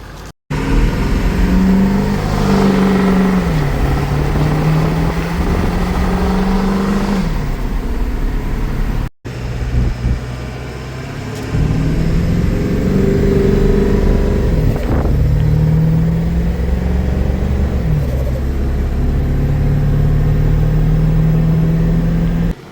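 A car engine revs and pulls hard through a test drive, loud and close with rising and falling pitch sweeps, briefly cutting out near the nine-second mark before surging again; no one speaks.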